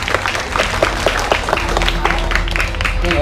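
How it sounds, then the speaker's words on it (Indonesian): Audience applause at a Balinese cultural performance honouring Bapak Wayan Sujana, a dense steady clapping crowd with some background murmur and tonal hum, fairly close and loud throughout. "Tepuk tangan yang meriah semuanya"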